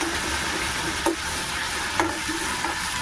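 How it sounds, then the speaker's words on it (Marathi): Grated ginger, garlic and green chili sauté in hot oil, a steady close sizzle with a few soft spoon scrapes against the pan, no talking. "अद्रक लसूण मिरची ह्याचं आपण जे किसून घेतलं होतं ना चारसर अद्रक लसूण ते घेऊन छान तेलामध्ये परतवून घेऊया"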